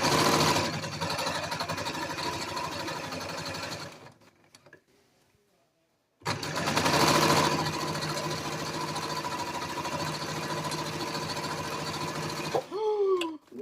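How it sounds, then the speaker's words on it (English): A sewing machine with a jersey needle stitching a sweatshirt waistband, running in a fast steady whir, pausing briefly, then starting again for a long run before stopping near the end. "Don't forget to back stitch at the beginning and the end."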